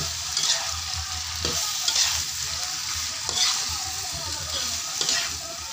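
Adobong isaw, pork intestines braised in adobo style, stirred and sizzling in a pan, with a steady fry hiss broken by repeated scraping strokes of the spatula, fairly close and without talk.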